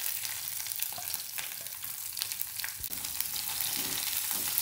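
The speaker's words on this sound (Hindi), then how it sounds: "इनको थोड़ा सा सौते कर लेंगे जिससे मिर्च अपनी भुन जाए।" Red chillies, green chillies and curry leaves sauté in a pan for a singhara flour curry, giving a steady close sizzle and crackle of frying with occasional stirring scrapes, no voices.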